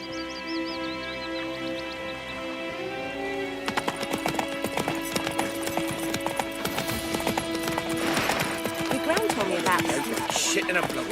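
Roach, Geralt's horse in The Witcher 3, trots with steady clip-clop hoofbeats and a brief whinny over game music, with voices speaking in the background.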